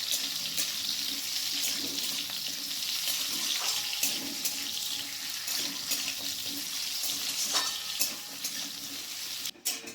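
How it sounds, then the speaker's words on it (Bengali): Chopped raw mango lightly fries in a pan with mustard for a sweet and spicy chutney, giving a steady close sizzle with occasional stirring clatter for ten seconds and no talking. "আমগুলোকে আমি হালকা করে ভেজে নেব।"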